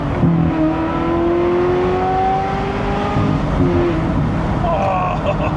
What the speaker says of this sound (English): We're just talking about the glorious sound that the 355 makes